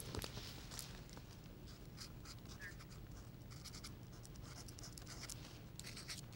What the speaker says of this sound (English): then write friendship across the top